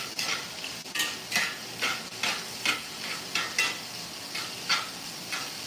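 Onions and peppers sizzle steadily in a cast iron pan while a utensil scrapes and stirs them in a regular rhythm of sharp strokes, close up and with no talk.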